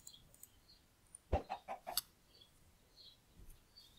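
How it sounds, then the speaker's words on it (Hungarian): Minecraft chicken clucking in a short burst of several quick clucks near the middle, fairly clear over a quiet background with no talk. "miért nem tojsz soha olyan, olyan tojást, amiben van kis csirke, Jani."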